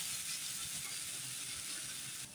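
A chana and paneer stuffed flatbread fries gently on a pan, producing a soft, even hiss that holds for a couple of seconds, quiet and without talk.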